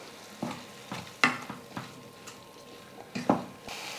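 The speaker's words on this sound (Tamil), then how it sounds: "இந்த மாதிரி நல்லா தக்காளியை வந்து வதக்கணும்" Tomatoes for dosa chutney sauté in a pan, a soft sizzle broken by repeated spoon scrapes and taps that come in an uneven, close stirring rhythm.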